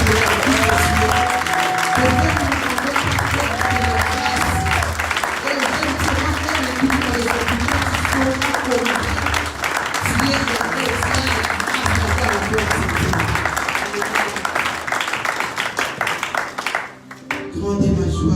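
A church congregation applauds in praise of God, sustained loud clapping from a large crowd with voices mixed in, continuing for many seconds before cutting off abruptly near the end.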